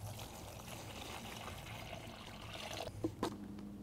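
A gallon of water poured onto winter floor mats for a Tesla Model Y makes a continuous gushing trickle that ends with a few close splashes and knocks.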